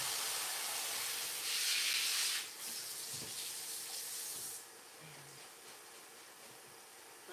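Tap water runs steadily into a sink while lettuce and spinach are rinsed, a broad hiss that is loudest early on and then softens to a quieter flow, with no talking.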